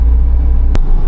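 Steady low road rumble of traffic heard from inside a 9-seater family minivan, a continuous close engine and tire drone with one brief sharp transient near the end, no talking.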